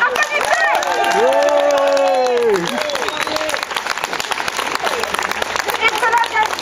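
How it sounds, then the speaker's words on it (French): Crowd at a wedding ceremony officiated by an archbishop bursts into loud, sustained clapping and cheering, with a voice speaking over the applause at the start. "Applaudissez!"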